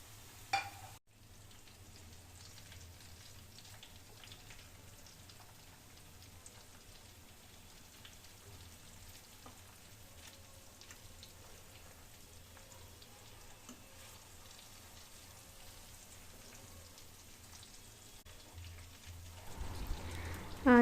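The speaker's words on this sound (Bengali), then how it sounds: "একদম ভাজা হতে থাকবে, নাহলে ভেতরগুলো কুক হবে না" Chicken cutlets fry over a low flame, giving a faint, steady crackle and patter of oil that runs evenly throughout with no talking, then brief handling clatter right at the end.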